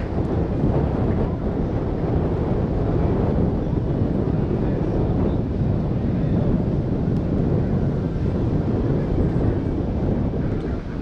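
Steady wind roars across the microphone at an outdoor senior men's javelin competition, a Croatian Cup athletics meet in 2023, a loud, constant broadband rush that stays unbroken for the whole stretch with no clear voices.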